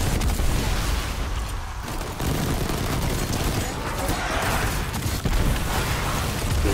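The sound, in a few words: exploding enemies in the video game Destiny 2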